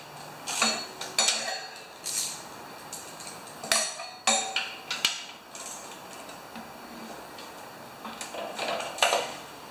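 Metallic clicks, clanks and bursts of ratcheting come in irregular clusters as a bolt is worked loose on a 3.5 HP Homelite tiller, close and fairly loud, with quiet gaps between efforts.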